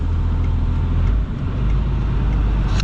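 A failing transmission in a high-mileage hotshot truck fills the cab with a loud, continuous low rumble and whining drone, holding steady with a brief dip midway.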